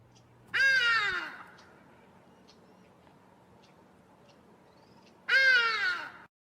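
Two loud, harsh hadeda ibis calls ring out among the birds of Kirstenbosch garden, each a descending series of raucous honks lasting about a second, separated by several seconds of quiet background.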